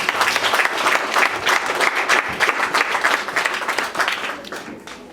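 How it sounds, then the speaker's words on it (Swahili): A church congregation claps together in praise of Jesus, a loud, sustained burst of many hands that rises and holds, then tapers off toward the end. "Mpigie Bwana Yesu makofi."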